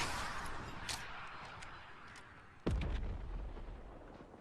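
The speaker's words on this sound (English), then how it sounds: "there isn't anything to ricochet off, for my explosion to ricochet off" A rocket explodes in a battle royale video game, a sharp blast that cuts in suddenly over a steady rushing background of in-game ambience, with faint earlier pops before it and no talk.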